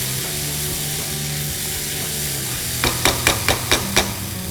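A spoon stirs a moong dal kachori spice filling with ghee in a pan: a steady low kitchen hum, then a rhythmic series of about six sharp scrapes near the end.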